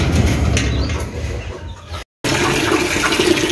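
Water rushes steadily into a container in a poultry yard with turkeys and chickens, a continuous splashing hiss with birds clucking faintly around it and a brief cutoff midway.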